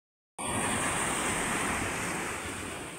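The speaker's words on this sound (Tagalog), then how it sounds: "Ang laki-laki ng alon." After a brief silence, loud crashing surf bursts in and rolls on in a heavy, continuous roar of big ocean waves breaking on the shore.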